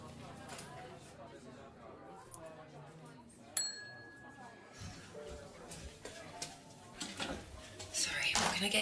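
A bell rings once in a detective video game pub, sharp and bright with a lingering tone, amid quiet game ambience and faint background chatter.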